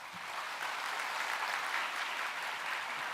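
An audience at a church testimony gathering gives the guest speaker sustained applause, a dense, even wash of many hands clapping throughout, with no voices over it.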